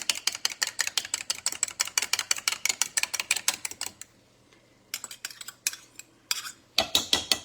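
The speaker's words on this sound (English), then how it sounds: "I guess I could beat them up a little bit" Three eggs are beaten in a bowl with quick, even, close clicking strokes of a utensil against the side, a short pause, then a few more bursts of brisk whisking, with no talking.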